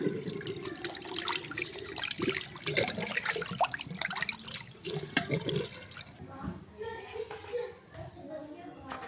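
Fish pieces being rubbed and rinsed in water, with sloshing, splashing and trickling close by as someone talks over much of it.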